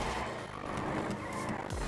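Dodge Challenger drifting through mountain curves in the FiveM game, engine droning loud and steady with tire squeal and skid noise blended in throughout, no talking.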